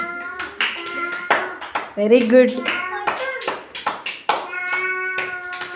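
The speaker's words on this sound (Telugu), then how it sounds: "క్లాప్స్ పెట్టండి" Young children at an Anganwadi centre clap in quick, uneven bursts of sharp claps, close by, while an adult speaks over them encouragingly.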